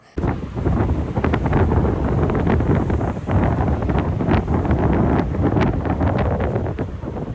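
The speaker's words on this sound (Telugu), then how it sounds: "చాలా చల్లగా ఉంది, విండ్ కూడా బీభత్సంగా వస్తుంది." Strong cold wind buffeting the microphone on a beach in Canada in winter, loud and gusty, continuous roaring rumble for several seconds.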